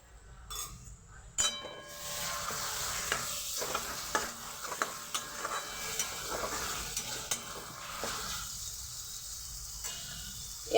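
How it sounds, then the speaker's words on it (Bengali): Onions fry in a pan with ginger-garlic paste, making a moderate sizzle under repeated clinks and scrapes of a utensil stirring against the pan. "পেঁয়াজটাকে আস্তে দিয়ে পেঁয়াজটাকে ভাজবো"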